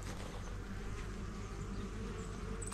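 Honeybees buzzing steadily in front of a thriving backyard hive in spring, many bees flying in and out, a dense continuous hum filling the whole stretch with no voices.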